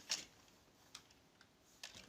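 A handful of sparse, quiet keystrokes on a computer keyboard while a C++ programming question is typed out, with isolated clicks spread across a couple of seconds and no voices.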